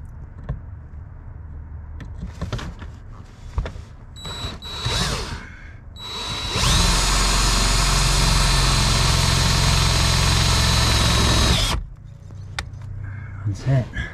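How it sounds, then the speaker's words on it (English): A power drill bores through a metal bracket inside a Tesla Model Y with a self-tapping screw, a loud steady whir lasting about five seconds, framed by quieter handling noises before and after. "I think I'm just gonna drill a hole right through there"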